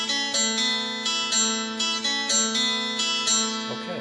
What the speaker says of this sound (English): add some reverb. This is the Fender 63 spring.